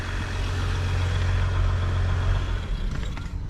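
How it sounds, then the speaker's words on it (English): A 2020 Jeep Wrangler EcoDiesel's diesel engine idles close by, a steady low rumble with a constant hum and no voices over it. "now you can hear the diesel engine running"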